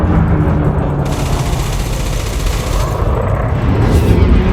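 Rapid multi-cannon gunfire in a space combat video game, loud and continuous with dense overlapping bursts and heavy low rumble.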